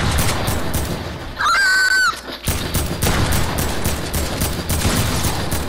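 A machine gun fires in the video game Fortnite: dense, rapid bursts of loud shots run almost continuously, with a brief rising tonal game effect partway through.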